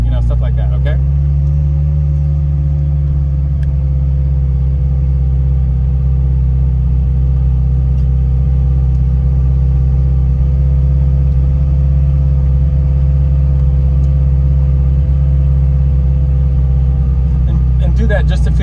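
A vintage Ferrari idles and rolls slowly around a parking lot, its engine a loud, steady low rumble holding constant throughout, with faint clicks and handling noises near the start and end.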